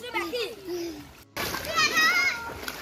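Children playing in a river in Equatorial Guinea, with choppy splashing and shouting kids' voices close by throughout; a brief gap interrupts before lively splashing and chatter resume.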